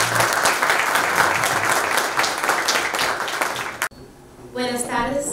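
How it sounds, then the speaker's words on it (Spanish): Loud, dense applause from an audience welcoming a woman to the stage, sustained for several seconds, then cutting off abruptly as a voice begins speaking. "Un fuerte aplauso para ella."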